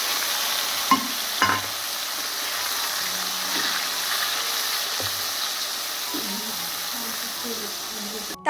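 Tomato paste frying in a pan with cumin and chillies gives a steady soft sizzle throughout, with a few scraping stirs and light clinks of a spoon against the pan.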